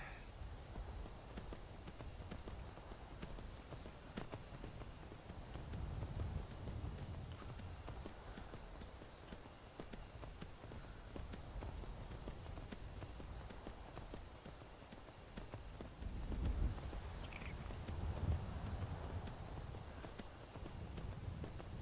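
Soft, steady clip-clop of horse hooves walking at an even pace in the video game Skyrim, with a faint insect-like chirping hum in the background.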